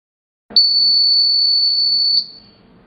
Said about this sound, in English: The buzzer alarms the consumer